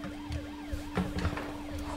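Ambulance siren effect in a film soundtrack, a loud wailing tone sweeping up and down repeatedly, overlaid with short thuds and clatter.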